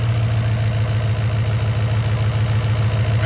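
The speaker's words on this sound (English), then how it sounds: "Hear the idle coming down a little bit." A 2021-plus fourth-generation Ford F-150 with a freshly installed Cobra Jet intake idles steadily up close, its low, even engine pulse settling slightly lower, with no talking.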